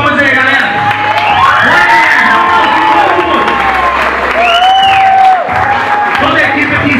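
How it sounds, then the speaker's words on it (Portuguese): Crowd at a Thai boxing 4x4 team challenge applauding and cheering loudly, with whoops, shouts and excited voices throughout, close and continuous. "Vamos dar salva de palmas aí,"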